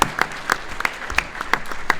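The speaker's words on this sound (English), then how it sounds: "I hope you will join me in one more round of applause for both of these gentlemen" Audience at a debate awards ceremony claps in a modest round of applause, individual hand claps standing out sharply against a softer spread of clapping.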